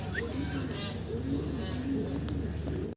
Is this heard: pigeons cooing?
yes